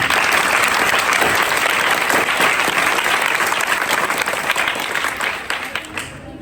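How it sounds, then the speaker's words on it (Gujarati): Steady applause from a school audience of children and teachers at a senior citizens' book donation event, dense and sustained before thinning out near the end. "ખરેખર તમારા માટે એક વખત તમારા માટે તાળી પાડી દો"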